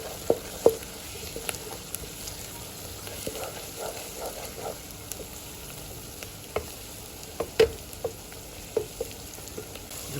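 Ginger garlic paste and green chillies frying with onions, a continuous sizzle punctuated by scattered sharp clicks and scrapes of stirring, close and moderately loud with no speech.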